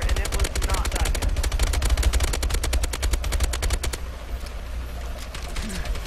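A rapid, loud stream of automatic gunfire shoots down a Warbird in Call of Duty: Advanced Warfare, runs for about four seconds, then stops abruptly and leaves quieter game noise behind.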